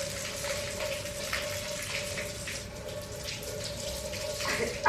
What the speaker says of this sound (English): No, this is shower head.